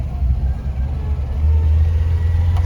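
A Peugeot 404 on a short brake test drive gives a loud, steady low engine drone from inside the car, with the note swelling slightly as it picks up.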